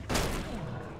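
A single shotgun blast in the Elex 2 video game, a damaged shotgun tested one round at a time: one loud, near boom with a sharp onset and a short rumbling tail, heard alone.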